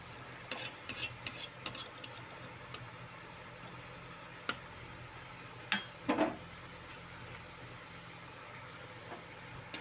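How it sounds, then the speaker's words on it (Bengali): A dried red chilli dropped into hot oil in a pan while cooking a tamarind fish dish, with soft sizzling and a string of sharp clicks and scrapes from a spatula. "তেলের মধ্যে দিয়ে দিচ্ছি একটা শুকনো লঙ্কা।"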